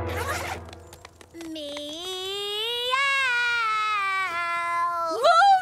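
A cartoon character imitates a cat's meow in a long, wavering, rising vocal tone that breaks into a sharper cry at the end, after a short burst of noise.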